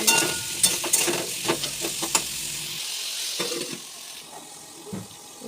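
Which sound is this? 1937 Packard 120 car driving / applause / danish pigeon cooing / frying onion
frying onion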